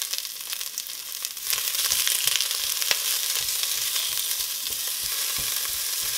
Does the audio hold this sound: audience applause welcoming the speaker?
no